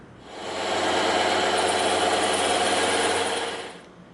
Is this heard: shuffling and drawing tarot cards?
no